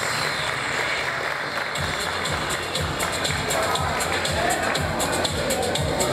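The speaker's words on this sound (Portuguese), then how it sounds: "Vamos aplaudir," An audience at an award ceremony applauds steadily, with dense, sustained clapping throughout and a rhythmic clap pattern emerging midway, over a faint crowd murmur.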